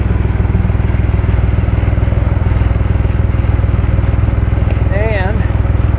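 Idling motor on a Copart salvage car with an exhaust or oil leak, a loud steady rapid ticking putter running throughout, close up, with a brief warbling tone near the end and a voice talking over it.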